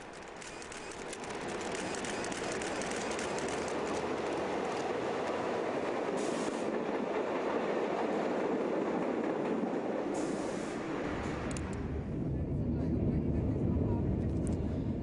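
A Berlin U-Bahn Kleinprofil type A2 subway train runs underground toward Zoologischer Garten station, producing a loud, steady rumble that builds after the first seconds and holds for the rest of the clip.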